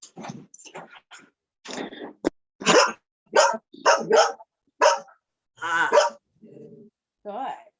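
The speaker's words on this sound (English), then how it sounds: "A few times she does a little bit of a growl on command as well." A pet dog gives several short growls and grunting vocal bursts on command, close and fairly loud, spaced out in uneven bursts with brief pauses between, with no talk in between.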